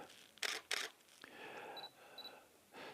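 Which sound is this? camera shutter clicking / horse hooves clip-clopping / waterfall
camera shutter clicking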